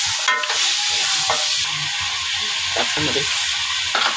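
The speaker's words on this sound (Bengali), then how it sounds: "এখন আমি পায়াগুলি মশলার ভিতর দিয়ে দিলাম।" Pig trotters (paya) hit hot spice masala in a pan and fry with a steady sizzle, with scraping stir strokes throughout and a brief spoken word.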